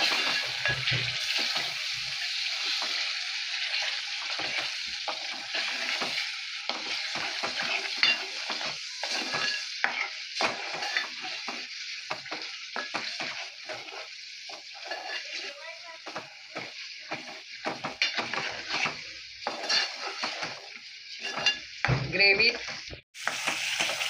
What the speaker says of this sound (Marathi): बारीक गॅसवर ही ग्रेव्ही मी तळून घेत आहे।